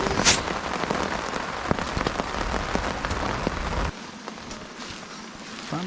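Rain falls steadily at an overnight riverside fishing camp, a dense close patter on surfaces that suddenly drops to a lighter, sparser drizzle near the end.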